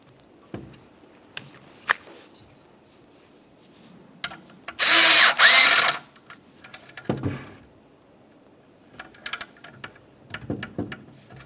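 A power tool spins a 7mm headed bolt into the intake manifold of a 2005-2010 Dodge Dakota, one loud buzzing burst of about a second among scattered clicks and scrapes of metal parts being handled nearby.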